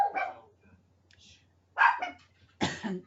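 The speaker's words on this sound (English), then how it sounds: "Sorry, the dog's barking." A dog barks in three short bursts in a home while a person is teaching a class, the barks loud and close with brief pauses between them.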